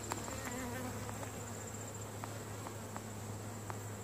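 Honey bees buzzing in an open hive during an inspection, a faint, continuous insect hum with a low steady drone and scattered brief ticks, no voices.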